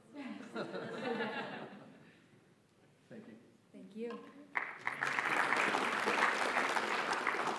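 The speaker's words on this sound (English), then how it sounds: "A round of applause for Dr. Hagel, please." Audience applause at the ISAPA 2023 closing ceremony, honoring an award recipient: someone speaks first, then broad, steady clapping from a sizable crowd rises suddenly and holds loud to the end.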